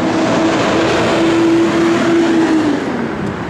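A 1967 Plymouth GTX driving down the road, its engine a steady loud drone with a sustained tonal hum that holds, then dips slightly near the end, with no talk.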